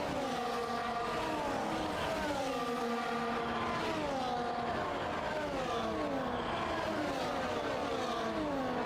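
Several Formula 1 cars in the F1 24 video game scream past at the Saudi Arabia circuit, layered engine tones rising and falling as they trade positions through an overtake, loud and continuous with no talking.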